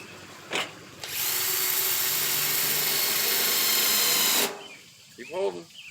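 A power drill bores into material in a garden, one loud continuous whir lasting several seconds, close by, with a child and an adult talking before and after it.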